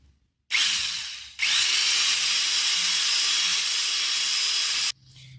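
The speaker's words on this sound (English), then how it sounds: "I'm going to stick this in my drill, my handheld electric drill, and give that a whiz" A handheld electric drill spins up in two bursts, a short whir followed by a long, loud, steady high-pitched whine that cuts off abruptly, close by with no talking.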